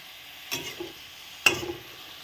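Radish stalks being stir-fried with spice paste for a Bengali chachchari, two short scraping stirs about a second apart over a soft, steady sizzle, close and moderately quiet.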